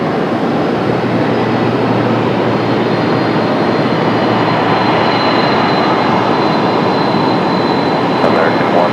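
A FedEx heavy jet with Rolls-Royce Trent 800 engines on its takeoff roll, a loud, sustained broadband engine roar holding steady and filling the whole stretch, with a faint high whine riding above it.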